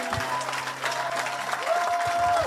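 A church congregation applauding and acclaiming Jesus, dense continuous clapping filling the space with voices and a sustained musical tone beneath.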